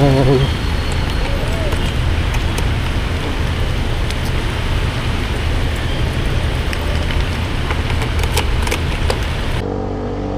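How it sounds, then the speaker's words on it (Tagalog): Steady rain falling throughout, a dense hiss with scattered drop ticks and a low traffic rumble underneath, with some voices mixed in. "Inabot na ako ng ulan."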